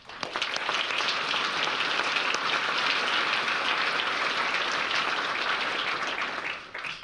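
Audience applause at a city's State of the City event, a dense, steady wash of many hands clapping that holds evenly for several seconds before tapering off at the end.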